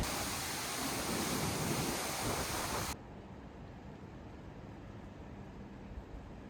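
A Norwegian waterfall that cars drive beneath gives a loud, continuous rushing roar for about three seconds, then cuts abruptly to a much quieter background hiss.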